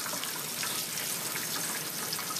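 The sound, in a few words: Indian Ringneck parakeet bathing in sink water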